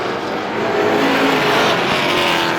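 Several race cars roar around a Star Speedway oval in a close three-car battle for third place, a loud, continuous engine drone with rising and falling revs and no pauses.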